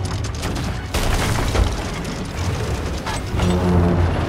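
Ship cannons fire during a naval battle in the pirate video game Sea of Thieves, heavy booms and a rolling barrage of blasts building in loudness over the clip.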